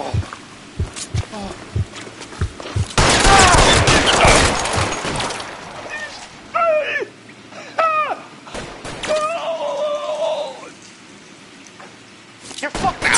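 Gunfire in the video game Detective Tank: a dense, loud burst of rapid shots under shouting voices, then scattered single reports among further game sounds.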